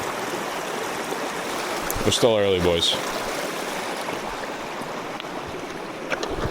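A river stream flows steadily throughout, a broad continuous wash of running water on a fishing outing, with someone speaking briefly over it midway.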